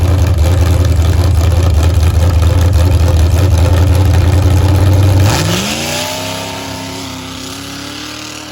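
A drag racing car on its first pass at a drag strip roars loud and close with a sustained engine howl, then the revs drop and the note winds down as the car pulls away.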